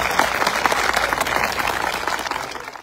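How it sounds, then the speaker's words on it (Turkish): A crowd applauds outdoors at a street march against violence toward women in Keşan, Turkey; many hands clap in a steady, moderately loud wash that slowly thins and fades toward the end. "Alkışlıyoruz"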